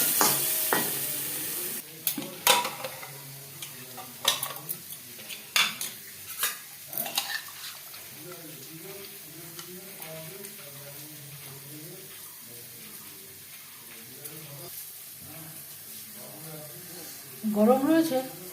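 Potatoes fry with salt and turmeric in a pan, stirred with scraping clatters and a soft sizzle beneath, close by, with a louder burst of stirring near the end.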